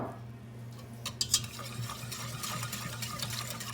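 Milk being stirred into a cheese sauce in a pot for au gratin potatoes, giving soft spoon scrapes and light clinks over a low steady hum, close and without talk.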